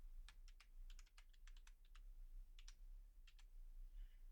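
Someone types on a computer keyboard, giving soft, close key clicks in short irregular runs with brief pauses, quiet over a low background hum.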